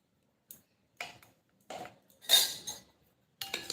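A spoon clinks lightly against a bowl while stirring a watermelon ice cream mixture with beet salt and tomato juice, a few separate soft taps spaced apart in a quiet room.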